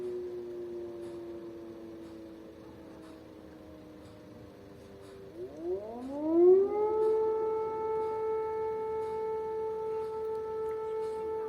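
A civil defense air raid siren sounds during an alert in Ukraine, a steady wail that rises sharply in pitch partway through and then holds a loud, sustained tone with no voices.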